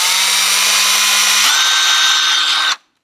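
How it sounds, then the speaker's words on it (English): A power drill bores a hole through a scrap piece for fitting tubing during a Torqeedo 403A motor install on a Jackson Liska kayak, a loud steady whine that steps up in pitch midway, then cuts off abruptly near the end. "drill a hole."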